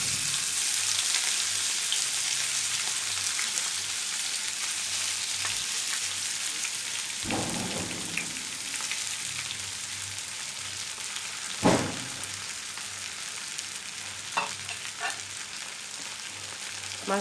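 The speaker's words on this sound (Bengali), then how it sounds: "মাছটা আমরা এভাবে ভেজে নিব।" Hilsa fish pieces fry in about a third of a cup of oil over a low gas flame. A steady, close sizzle carries on throughout, broken by a few light clinks and taps.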